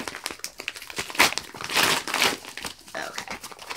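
Plastic packaging of a reborn doll's clothes crinkles and crackles as it is handled and pulled open, in irregular bursts with a few louder rustles, close by.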